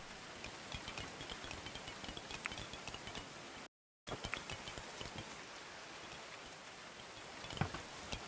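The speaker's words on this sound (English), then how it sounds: "I've never actually noticed the rain falling off the roofs." Steady rain pours down in the medieval colony game Going Medieval, a dense continuous hiss with scattered ticking drops off roofs, broken by a brief dropout, no voices.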